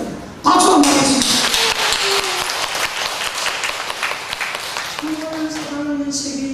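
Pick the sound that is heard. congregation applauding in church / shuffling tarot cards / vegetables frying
congregation applauding in church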